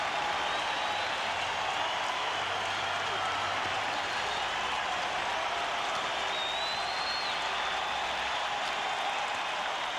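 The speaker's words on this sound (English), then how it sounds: "the Bruins have got this crowd up on their feet again" A packed hockey arena roars for the Bruins after a goal during a 1991 Stanley Cup playoff game, a loud, continuous crowd wash, with a commentator talking over it.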